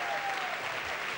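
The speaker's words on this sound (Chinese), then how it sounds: "掌声鼓励鼓励" Studio audience applause on a Taiwanese music variety show, a dense steady clapping that fills the short moment evenly at moderate loudness, with no speech over it.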